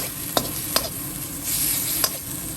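Beans stir-fried with shrimp paste over medium heat, a soft sizzling hiss punctuated by three quick spatula scrapes against the pan, close and clear without speech.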